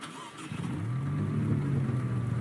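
A Maserati starting up in a Roblox-style driving game: a brief crank, then a steady low engine drone that rises slightly as it settles into a running hum, loud and close with no talking.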